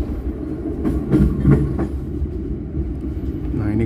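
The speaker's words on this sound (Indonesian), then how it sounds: "ini kereta api Mutiara Timur berbelok ke kiri ke arah Bangil hingga Jember dan Banyuwangi" The Mutiara Timur passenger train rumbles along the rails heading toward Bangil, Jember and Banyuwangi, with a close, steady rolling clatter and some louder swells of wheel noise.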